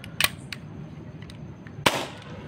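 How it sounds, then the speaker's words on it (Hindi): An Umarex Glock 19X CO2 blowback pellet pistol fires two sharp, loud cracks about a second and a half apart, with a couple of fainter mechanical clicks between them and no talking. "फायर करते हुए दिखाएंगे कि आप इसका ब्लो बैग चेक करिएगा"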